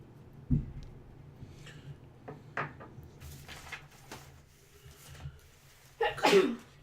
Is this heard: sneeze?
yes